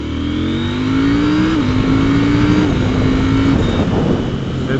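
A KTM 790 Duke motorcycle in sport mode rolls on in second gear, its engine note climbing steadily and loudly with a brief dip partway through, close and continuous with no talking.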